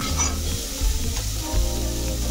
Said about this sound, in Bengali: মটরশুঁটি ভাজার সময় ঢাকনা দেব না।